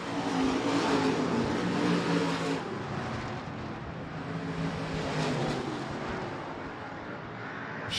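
Stock cars race around the Hancock County Speedway oval, a continuous roar of several engines droning and swelling as they pass, heard from a distance.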